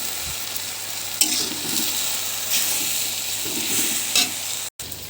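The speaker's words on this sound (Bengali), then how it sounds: "আমি তো এখন ধীরে ধীরে সিদ্ধ করবো আস্তে আস্তে" Taro leaves with lentils cooking slowly in a pan give off a steady low sizzle and bubbling. A few louder scrapes of stirring rise above it, with a faint hum underneath and no talking.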